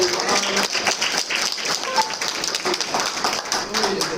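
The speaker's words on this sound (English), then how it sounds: "Can we give him a round of applause" Audience at a town hall meeting applauds a guest, with sustained clapping under a murmur of voices throughout.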